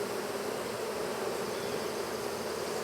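Swarm of bees driven out of a nest inside a cat house, a dense continuous buzzing of many insects, close and steady, with no talk.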